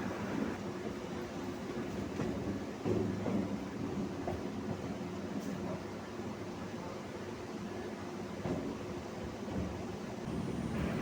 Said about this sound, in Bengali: ট্রেনটা বজবজ লাইন ছেড়ে চক্র রেলের লাইনে ঢুকছে